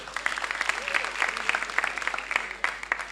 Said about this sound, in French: Applaudissez pour vous très fort.